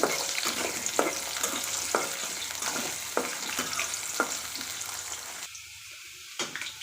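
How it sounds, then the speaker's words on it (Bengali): New potatoes fry in hot oil in a pan, giving a steady low crackling sizzle with soft periodic stirring clicks, moderately quiet and close, then a brief lull near the end. "প্রথমে আলুগুলো ভেজে নিয়ে"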